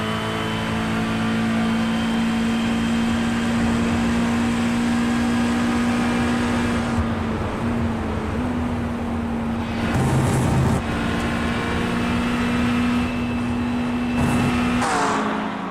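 A GT3 race car engine is heard onboard at Le Mans in a racing video game, approaching the braking zone for the Porsche curves. It drones steadily at high revs, with short dips and blips as the driver lifts and shifts. No voices.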